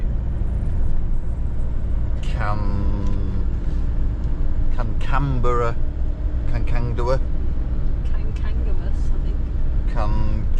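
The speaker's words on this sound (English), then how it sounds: "As you might be able to hear, it's a bit of a lumpy road back" A car driving along a lumpy rural road, its steady engine and road rumble droning underneath throughout while a person talks over it.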